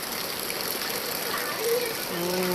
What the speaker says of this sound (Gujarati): જોઈ લો તમે કેટલો બધો વરસાદ પડશે